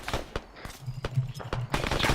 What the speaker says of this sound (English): Got a machine gun off to the northeast.